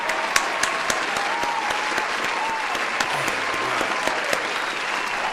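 A streamer claps along with a game for about five seconds: a dense, steady run of sharp claps close to the mic, with faint tonal game sounds underneath.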